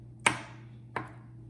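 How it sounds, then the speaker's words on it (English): Two sharp knife chops through boiled eggs on a cutting board, spaced well apart, close and crisp against a steady low hum. "I'm gonna go ahead and chop up my eggs here"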